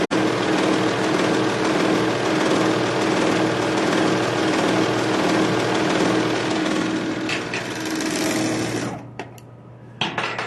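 A serger sewing machine stitches fabric in one loud, steady, continuous whir that runs nearly the whole time, then slows and stops near the end with a few short mechanical clicks.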